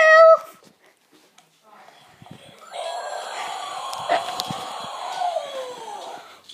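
A dog reacts to a prank, starting with a short sharp yelp, then after a quiet gap whimpering and whining in drawn-out, rising and falling cries up close.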